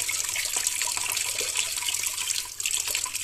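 Water runs steadily from the outlet of an instant mini water geyser, a close, continuous splashing rush at a fairly even level, with no speech.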